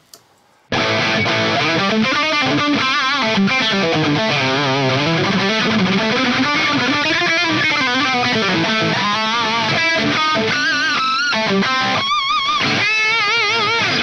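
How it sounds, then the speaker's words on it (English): Heavily distorted electric guitar played through a Fractal AX8 modeling a Marshall 800 amp, giving a saturated 80s-style Marshall tone; a steady, loud stream of sustained notes and bends after a brief pause at the start. "Is really good for those kind of 80s super saturated modern Marshall tones"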